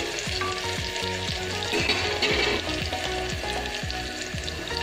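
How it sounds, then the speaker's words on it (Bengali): Onions frying lightly in oil for a chickpea and bottle gourd dal, a loud steady sizzle with repeated rhythmic scraping strokes of a spatula, close up and without any voices. "পেঁয়াজটা একটু হালকা করে ভেজে নিতে হবে"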